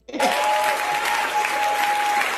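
A talk show studio audience breaks into loud, sustained clapping that starts abruptly and holds steady for a couple of seconds, with a faint tone running underneath.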